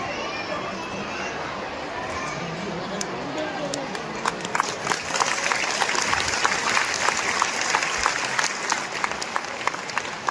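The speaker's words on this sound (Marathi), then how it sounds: "टाळ्या वाजवायच्या सर्वांनी" Audience clapping at a welcome ceremony for a spiritual gathering, a steady dense wash of applause that grows louder and sharper midway, with a speaking voice partly heard underneath.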